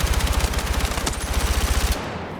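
Rapid semi-automatic gunfire from a weapon in the video game Battlefield 6 sounds as a fast, even string of loud punchy shots that stops abruptly, leaving a brief tail.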